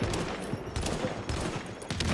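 Gunfire aimed at a sniper in the video game The Division: rapid automatic bursts crackle across a short stretch, moderately loud and uneven in rhythm, with faint background game noise.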